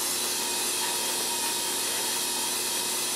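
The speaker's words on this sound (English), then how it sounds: "We're just going to buff this camera" A Dremel rotary tool buffs a scratch out of a camera lens, giving a steady, even high-pitched whir with a rubbing hiss that runs unbroken and fairly close throughout, with no voices.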